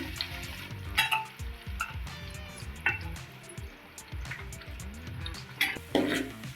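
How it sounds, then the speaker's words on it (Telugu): Chopped onions and green chillies fry in a pan with cumin seeds, giving a close, steady sizzle broken by scraping stirs and the clink of a spoon against the pan. "వీటిని చక్కగా బ్రౌన్ కలర్ వచ్చేంతవరకు అయితే వేయించుకుందామండి"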